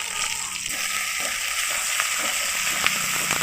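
Ground spice paste and chopped tomato frying in a pan with ginger and garlic for a fig and prawn curry, a steady moderately loud sizzle with faint bubbling and occasional small pops, no voices.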